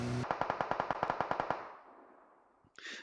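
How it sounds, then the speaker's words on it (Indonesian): Rapid automatic gunfire in a PUBG Mobile tournament match on Erangel rattles out about a dozen evenly spaced shots, fairly loud, then fades into a decaying echo before a brief game sound at the end. "mereka sudah mulai melontarkan beberapa tembak-tembakan"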